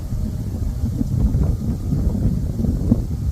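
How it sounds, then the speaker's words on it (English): Strong wind gusting across open farm fields at harvest time, blowing dust, heard as a low rumbling buffet on the microphone that stays steady throughout, with no voices. "the wind's just blowing dust up now"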